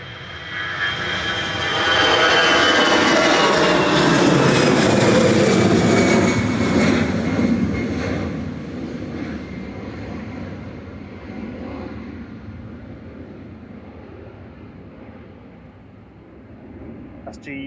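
An EasyJet airliner departs Manchester Airport bound for Amsterdam, its jet engines swelling into a loud, broad roar that peaks and then fades gradually into the distance.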